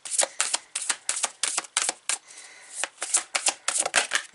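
A deck of tarot cards is riffled and shuffled up close, giving rapid crisp flutters and slaps in quick uneven bursts with a brief lull midway, with no voices.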